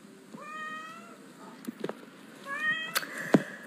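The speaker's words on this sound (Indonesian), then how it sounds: "Padahal ini kucing kampung." A village cat in an Indonesian home gives two clear, drawn-out meows, the first near the start and the second about two seconds later, with faint background noise and a few light knocks between them.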